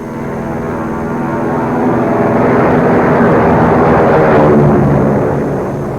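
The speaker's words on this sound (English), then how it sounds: "Planes maintained the best possible schedules carrying men and supplies between Tatsa and the main camp at Camano." An early-1950s airplane flies over snowy wilderness on a supply run between camps. The engine roar swells steadily to a loud peak and then begins to fade, with nothing else heard.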